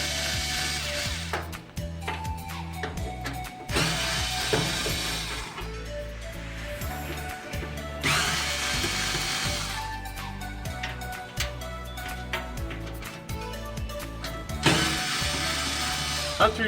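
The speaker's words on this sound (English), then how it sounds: "go ahead and remove the 4 screws that are holding the main board secured to the machine" A power screwdriver whirs in repeated short bursts, about four of them, while removing screws from the main board of an Argos 15 machine, with clicks and handling noises between bursts up close.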